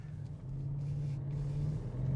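Audi RS6 wagon V8 engine revving at steady high load, a loud continuous low rumble with a strong droning note that holds throughout, close and alone with no talk.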